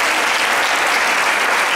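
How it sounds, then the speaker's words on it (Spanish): An audience gives three teachers a loud, dense burst of applause, steady and continuous throughout the short stretch. "Fuerte el aplauso para los 3 maestros."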